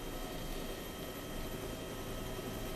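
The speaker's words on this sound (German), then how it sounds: "Wir haben einen kostenlosen Heli bekommen" Helicopter in DayZ, a steady loud broadband whoosh of rotor and engine, constant and close, with no talk.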